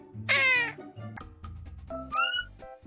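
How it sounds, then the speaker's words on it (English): A cat meows loudly and repeatedly up close, a long drawn-out cry followed by shorter meows over low background hum. "Why do you keep meowing?"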